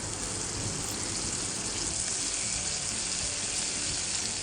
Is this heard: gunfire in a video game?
no